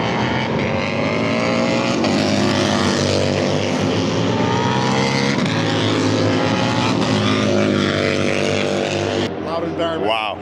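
Bagger race motorcycles at a MotoAmerica event roar through a turn on a warm-up lap, a loud, dense, continuous engine blare that holds steady and close for the whole stretch.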